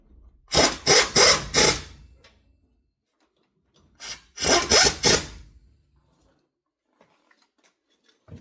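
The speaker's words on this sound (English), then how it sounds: "I'll run that down with my ratchet wrench" A ratchet wrench runs down the bolts on a vehicle wheel hub beside the ball joint, in two close, loud bursts of rapid rasping clicks separated by a short pause, then near silence.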